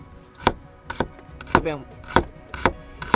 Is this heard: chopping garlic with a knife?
yes